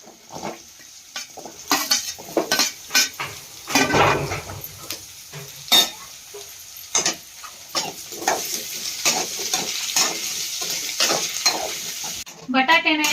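Onions and sliced potatoes frying in a pan for a crisp hotel-style palya, stirred steadily: a continuous sizzle with repeated scraping and clinking of a spatula against the metal pan, close and fairly loud, with no talking.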